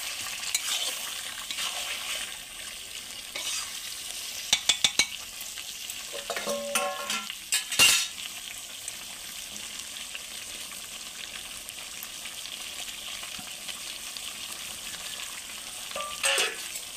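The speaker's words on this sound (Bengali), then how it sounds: "দেখো বন্ধুরা, চিকেনটা আমি অনেকক্ষণ ধরে কষছি, আরও একটু কষবো। এবার আলুগুলো দিয়ে দেবো, দিয়ে আলুগুলো দিয়ে একটু কষবো।" Chicken and potatoes sizzle steadily as they are sautéed in a pan, with scraping stir strokes and a few sharper clinks and spatters over a continuous close frying hiss.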